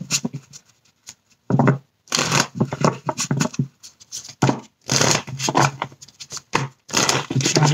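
Tarot cards are shuffled by hand in close, crisp bursts of riffling and slapping, with short pauses between rounds and no voices.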